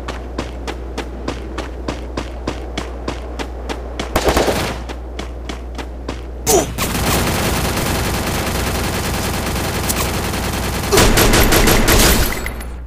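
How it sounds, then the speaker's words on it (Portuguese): Gunfire from the video game Free Fire: a run of evenly spaced single shots gives way to dense, sustained automatic bursts, loud and close, with a few louder blasts near the end. "Tá vendo esse barulho, galera? Tô atirando."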